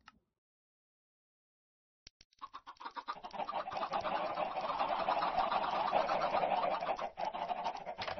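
Chickens in Minecraft cluck and scratch in a dense, continuous flurry that starts abruptly after a silent pause and builds to a steady level, fairly quiet overall.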